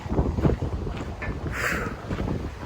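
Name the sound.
wind blowing on a hiking trail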